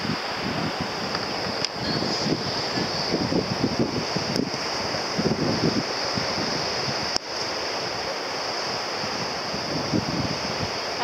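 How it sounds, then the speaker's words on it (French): Steady ocean surf and gusting wind on the coast of Reunion Island at Trois Bassins, a continuous wash of waves with microphone buffeting and no voices. "Il y a des vagues"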